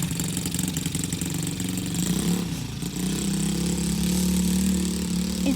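A dirt bike engine warming up, idling steadily and fairly loud with a slight rev swell midway, close by and without talk.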